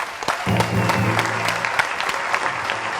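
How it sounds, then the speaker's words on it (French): Audience applause honoring two students from Côte d'Ivoire for their good grades, dense clapping with a sustained low musical tone beneath it early on. "On va applaudir pour leurs bonnes moyennes encore."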